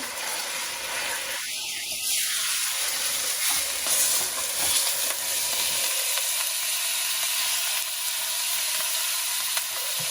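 A pound of ground beef browning in avocado oil in a pan, sizzling and frying loudly and continuously up close, with occasional stirring scrapes breaking through the hiss.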